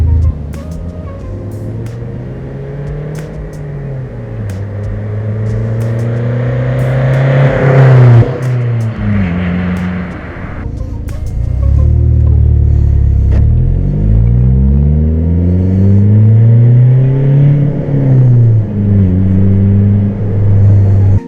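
A loud straight-piped diesel engine of a Volvo V50 2.0D revs repeatedly with a deep, rough exhaust rumble, pitch rising and falling through several long throttle pulls.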